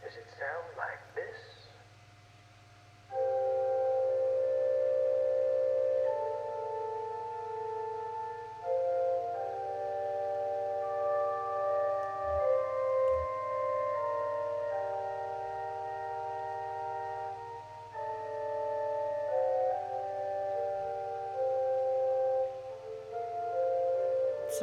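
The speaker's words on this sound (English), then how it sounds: "It's a very high-pitched organ. It sounds more like a bunch of recorders." Thin, high-pitched organ music from the video game Kentucky Route Zero plays sustained chords and slow melody notes, soft and lacking any deep bass tones, sounding like a group of recorders.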